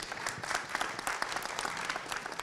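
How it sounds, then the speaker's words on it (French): A conference audience applauds a speaker, a steady, dense wash of many hands clapping at moderate distance with no talk over it. "On vous applaudit également."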